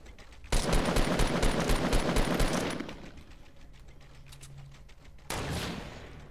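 Rapid assault rifle fire in Fortnite, a loud dense burst of shots lasting a couple of seconds, then quieter game ambience before a second short volley starts near the end.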